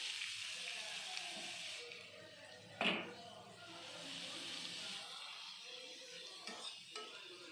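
Onions and curry leaves frying in coconut oil in a pan produce a soft, continuous sizzle with a sharp burst of hiss and occasional clinks of stirring against the pan.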